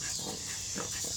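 Snorting from Dobby, a tiny dog, heard as a few soft, snuffling, pig-like grunts, faint and close against steady background hiss, with no one talking.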